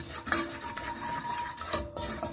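A spoon stirs flour toasting in a pot, the first step of a broccoli soup. Soft scraping and rhythmic scuffing sound close by, with a few light clinks against the pot and no talk.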